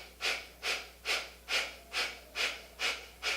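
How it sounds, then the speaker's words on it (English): Breath of fire yoga breathing, eight sharp rhythmic nasal exhales at an even quick pace, close and clear, with no talk. "it's a sharp exhale at the nose as you jut your belly in"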